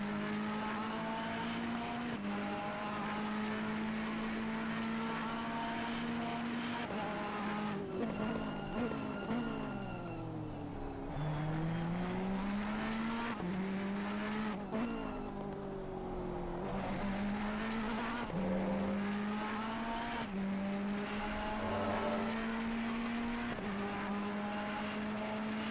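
Porsche race car in the Assetto Corsa Competizione sim at the Indianapolis 24-hour event, its engine droning continuously and rising and falling through gear changes, with steady high-pitched whine throughout.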